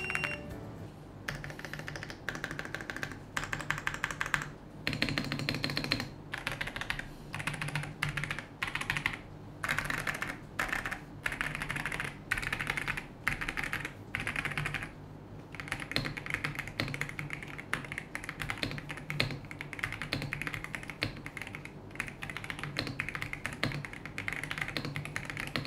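An Epomaker Cypher96 Flamingo mechanical keyboard is typed on continuously for about 26 seconds, giving a close, steady stream of clacky keystrokes with brief pauses between bursts.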